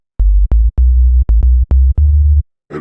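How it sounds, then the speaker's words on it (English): Synthesizer oscillator tone plays as a series of short, loud, low-pitched pulses of uneven length, about eight in a row, with a brief noisy burst at the end. "an oscillator makes a signal go from the non-excited state to the excited state and back. It creates an oscillation."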